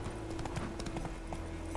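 Horse hooves galloping in The Witcher 3 video game, a steady run of clip-clop beats over a continuous background, with no voices.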